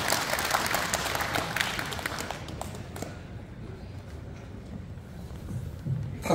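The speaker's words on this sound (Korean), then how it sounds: "큰 박수로 환영해 주시기 바라겠습니다." An audience at an open table tennis tournament ceremony in Pocheon applauds, fairly faint clapping from many people for about three seconds that then thins out into quiet room noise.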